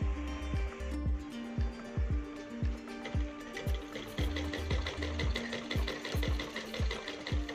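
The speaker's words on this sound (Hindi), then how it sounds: "पूजा जो है आज सिलाई कर रही है" A domestic sewing machine stitches a suit in rapid, regular bursts, with steady rhythmic needle clatter and a motor whir running close and continuous throughout.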